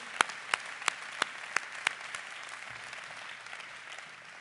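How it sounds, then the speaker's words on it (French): An audience at a political gathering for a Monaco candidate gives a round of applause: a few sharp, separate claps stand out early, then fade into a soft, thin patter that trails away, fairly faint and distant. "Je vous demande de bien vouloir l'applaudir très chaleureusement."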